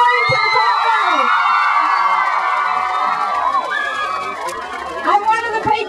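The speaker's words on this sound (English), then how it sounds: "Give yourselves a big cheer for saying no to the Pulp Mill." School children cheering and shouting together at an outdoor rally against a pulp mill, a loud sustained crowd roar with whoops rising again near the end.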